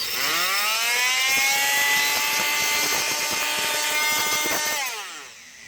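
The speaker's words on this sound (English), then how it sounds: "We're just gonna use the old Rockwell." A Rockwell oscillating multi-tool cuts latch pieces taped together and clamped in a vise for a tool cart drawer mod. It revs up to a loud, close, buzzing whine, holds steady for several seconds, then winds down.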